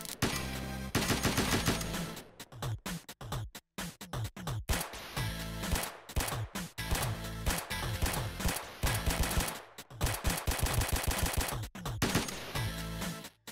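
Rapid gunfire from a pistol and other weapons in a Roblox first-person shooter game, loud sharp bursts of shots in quick runs broken by short pauses, with no talking.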